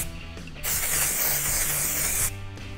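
Texturizing hair spray hisses from an aerosol can onto a knotted faux mohawk updo, one steady close burst lasting about two seconds, loud and alone.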